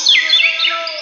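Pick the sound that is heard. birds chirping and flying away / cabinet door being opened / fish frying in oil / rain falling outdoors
birds chirping and flying away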